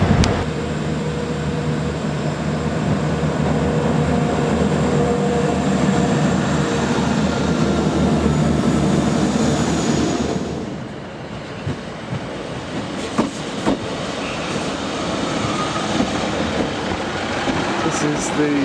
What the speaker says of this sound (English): This is the Llandudno to Manchester Airport train